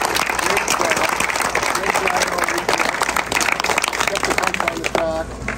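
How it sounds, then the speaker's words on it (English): A crowd at a go-kart racing shootout in Oliver, BC applauds young kart racers, loud dense clapping and cheering sustained throughout, with a voice speaking over it near the end. "So just for a round of applause to all of these youngsters"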